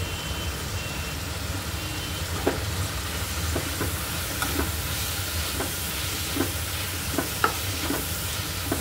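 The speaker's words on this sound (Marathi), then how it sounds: "मेथी चांगली परतवून घ्यायची आणि नंतर मग आपण राईस ॲड करायचा" Fenugreek leaves (methi) sautéed in a pan for methi khichdi, a steady sizzle and fry hiss with scattered light scraping stirs of a spatula at irregular intervals, no talking.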